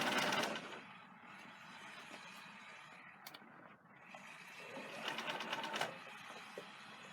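A sewing machine stitches a neckline seam up close, a rapid mechanical chatter that runs nearly throughout with brief pauses and a slight surge toward the end.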